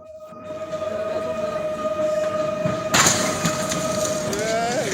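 Train striking a car stuck on the tracks during a rescue exercise: a steady horn or whistle tone gives way to a sudden loud crash-like burst of broadband noise, followed by continuing rumble and clatter, with people talking underneath.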